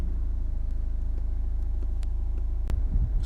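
A Honda Civic 1.6 i-DTEC diesel engine idles steadily, giving a constant low rumble close by with a faint high click partway through and no talk.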